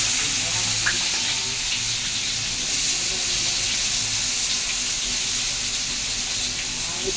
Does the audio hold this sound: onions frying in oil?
yes